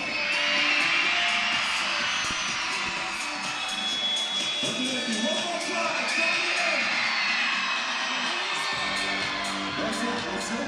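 A basketball arena crowd at halftime of a New Zealand NBL game fills the space with loud, continuous roaring and cheering, a dense wash of many voices that holds steady throughout.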